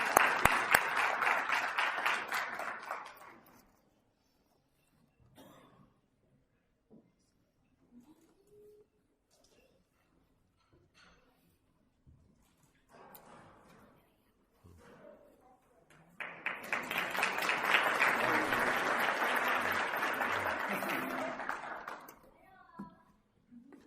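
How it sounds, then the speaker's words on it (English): Ceremony audience claps in a burst at the opening, then falls quiet with faint scattered sounds before a second longer round of applause swells and fades near the end. "Please give them another round of applause."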